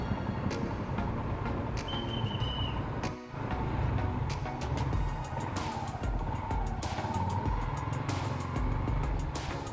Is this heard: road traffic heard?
yes